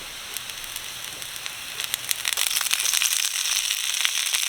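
Fresh spinach dropped into a hot pan with garlic, crackling and sizzling in a dense, steady hiss that swells partway through and stays loud to the end.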